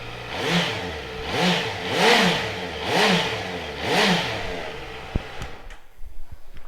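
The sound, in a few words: Honda CBR650F four-cylinder motorcycle engine starting and revving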